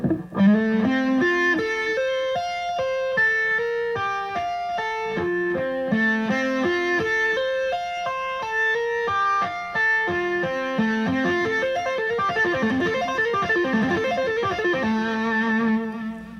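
A distorted electric guitar plays a fast tapped lick, crisp legato notes cascading up and down in rapid repeating patterns, alone and up close.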